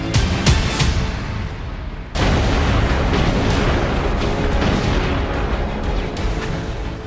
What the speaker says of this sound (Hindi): हिंदुस्तान और पाकिस्तान दोनों की तोपें पिंपल 2 पर बरस रही।